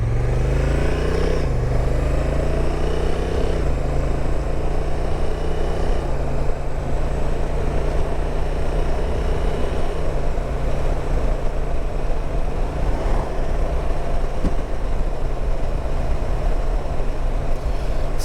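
Honda RT 1100 DCT motorcycle cruising on the road, a loud continuous engine drone with a few pitch shifts as it changes gear, wind rush throughout and no talking.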